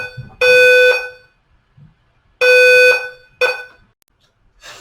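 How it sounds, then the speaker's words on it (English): Fire alarm going off indoors: loud, harsh electronic beeps in a pulsing pattern, two long half-second blasts and a shorter third, with pauses between. "Fire alarms suck."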